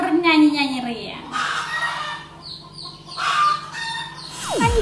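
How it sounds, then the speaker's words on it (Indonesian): Hens about to lay eggs cluck and call repeatedly in a backyard on a Sunday, close and fairly loud, with other birds chirping around them and a descending whistle-like sound at the end. "ayam saya sedang mau bertelur jadi mereka bernyanyi-nyanyi ria"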